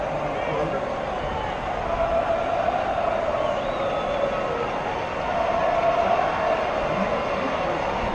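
Open-air crowd noise rises from the stands at AT&T Stadium during a high school state championship football game, a broad continuous murmur heard from up in the broadcast booth, steady and moderately loud throughout.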